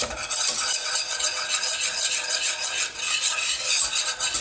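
Flour cooks in a pan as it is stirred for a mac and cheese sauce, making a loud, steady hissing sizzle and scraping that runs continuously up close.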